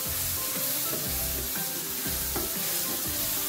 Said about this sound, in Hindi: असी इहदे विच दुध ऐड करांगे और चम्मच चलांदे जावांगे